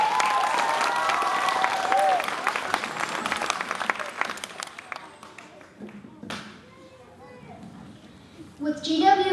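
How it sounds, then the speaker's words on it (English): Applause and cheering from a school audience at a live stand-up comedy show, dense clapping with children's voices at first, then fading into scattered claps and chatter before a burst near the end. "Let's give him a round of applause."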